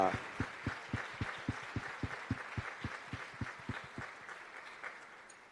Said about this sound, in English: Shall we clap our hands?